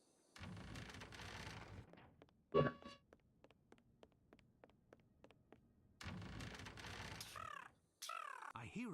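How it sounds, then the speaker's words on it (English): A bird calls from a roof in a Sherlock Holmes adventure game, giving a loud caw followed by a run of short, evenly spaced clicks, set between stretches of spoken dialogue. "I believe a bird on the roof was speaking, but I don't understand what it said."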